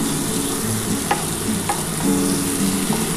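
Spiced soybean masala is stir-fried in a pan. A continuous close sizzle is broken by a few sharp scrapes of the spatula over about three seconds, with no voices.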